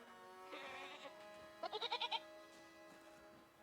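A goat in a video game bleats twice: a wavering cry, then a louder stuttering bleat of six quick pulses. A steady tonal hum of game music runs underneath.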